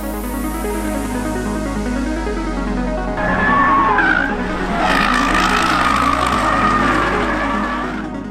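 A 2020 Toyota Supra (A90, Mark V) engine drones loudly and steadily at speed, with tires squealing and rising revs midway, heard without any talk.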